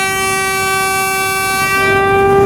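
A Jand train passing through the Seven Sisters tunnels gives a long, loud sustained horn blast with steady tonal harmonics, swelling slightly toward the end over the rumble of the moving train.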